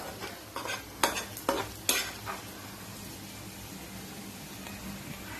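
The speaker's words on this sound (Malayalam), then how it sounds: "ബീഫിലത്തെ വെള്ളമൊക്കെ മാറി ഒന്ന് ഫ്രൈ ആയിട്ടുണ്ട്" Beef fries in a pan for beef pickle after its liquid has cooked off, with a few sharp scraping stirs early on, then a steady, even sizzle carrying on alone.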